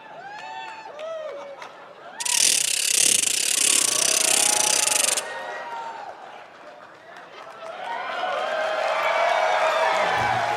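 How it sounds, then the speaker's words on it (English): A ratchet noisemaker is played as a solo on stage at a Weird Al concert. About three seconds of loud, rapid, grinding clatter cut through crowd noise and chatter. "Ratchet solo!"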